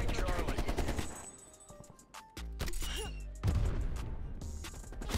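Black Ops Cold War multiplayer gunfire rattles in loud, rapid bursts with sharp impacts and short pauses, mixed with game effects.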